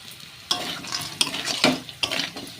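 Vegetables are stirred with jaggery and kasuri methi in a hot pan, with a near, continuous sizzle broken by several scraping spoon strokes and no talking.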